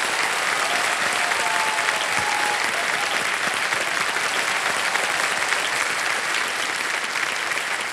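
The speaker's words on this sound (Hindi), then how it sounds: "एक जोरदार तालियां बज जाए इनके लिए।" Studio audience on the KBC game show applauding a correct answer, thick sustained clapping that stays loud and even for the full eight seconds with no break.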